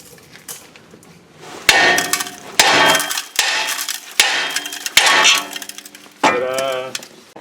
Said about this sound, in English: we're going to whack that bitch right there on the spindle. And that thing's going to pop loose